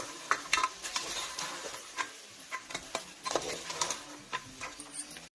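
A spiced curry fries and gets stirred in a pan, giving a steady soft sizzle broken by repeated scraping strokes and light clicks of a spoon against the metal, close and moderately quiet with no talk.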